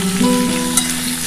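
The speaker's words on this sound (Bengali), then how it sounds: "এবার এটা ভালো করে একটু ভাজা ভাজা করে নিতে হবে।" Drumstick and potato pieces fry with turmeric and a little sugar in a steady, close sizzle, with one faint clink partway through and no talking.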